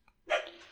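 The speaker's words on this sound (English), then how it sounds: "that's my dog." A dog gives a single short bark, close and moderately loud, quickly fading in a small room.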